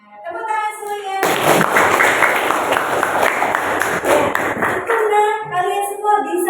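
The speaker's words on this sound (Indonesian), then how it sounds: "tepuk tangan semuanya" Classroom of pupils clapping together in a burst of applause lasting about four seconds, loud and close, with a voice talking just before and after.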